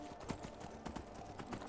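Horse hooves clop steadily as a horse crosses water in the video game Skyrim, a faint, rhythmic series of soft thuds with splashy texture, without speech.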